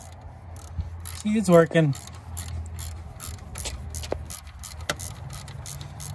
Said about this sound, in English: we're gonna throw a 12 millimeter on this and we're gonna start loosening the belt